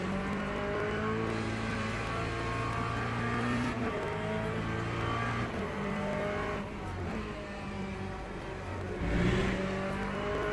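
Racing engines drone and rev continuously in the video game Le Mans Ultimate, with occasional high tire squeals cutting through the steady motor noise.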